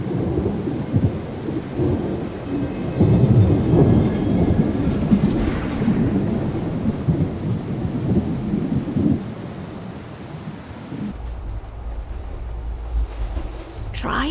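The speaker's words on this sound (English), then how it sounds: "If it weren't for this bloody storm, it would have been done today." Thunderstorm with rain in the game Syberia The World Before: loud rolling thunder rumbles over steady rain for most of the stretch, then fading to a low murmur.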